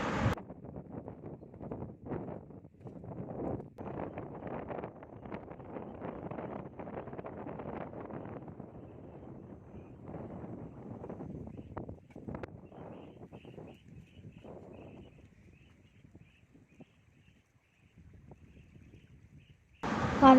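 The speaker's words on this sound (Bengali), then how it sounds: "কানে ভেসে আসছিল শুধু পাখির আওয়াজ, জলের আওয়াজ আর হাওয়ার আওয়াজ।" Wind buffeting the microphone beside a lake with lapping water, a rough continuous rumble that fades toward the end, leaving faint ambience and distant high chirps.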